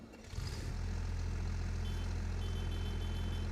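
A farm vehicle's engine in Farming Simulator cranks and catches, then settles into a steady, deep idle that continues alone.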